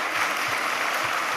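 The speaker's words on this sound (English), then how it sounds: "give Dan a round of applause" Steady applause from a debate audience fills the room, dense and continuous without voices over it.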